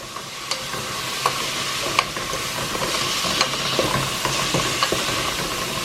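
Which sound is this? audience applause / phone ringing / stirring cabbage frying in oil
stirring cabbage frying in oil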